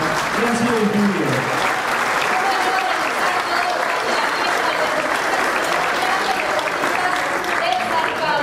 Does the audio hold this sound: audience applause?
yes